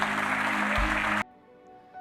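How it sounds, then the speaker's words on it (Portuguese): A church congregation applauds during a service, with a dense burst of clapping that cuts off abruptly after about a second, leaving near silence. "Você pode aplaudir a Deus."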